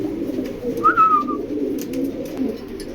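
A foreign-breed pigeon coos close by, a soft, low, throaty murmur rolling on continuously with one brighter whistled note rising above it.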